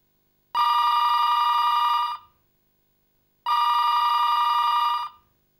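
A telephone rings loudly and close in two long electronic bursts separated by a silent gap, with no voices. It sounds through a quiet room during a TV crime drama scene.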